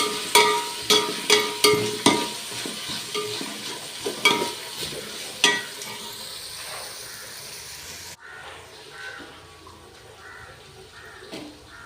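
Chopped tomatoes frying and being stirred in a pan for coconut rice, rhythmic scraping knocks over a steady sizzle, close, with the stirring stopping partway and a quieter hiss continuing alone.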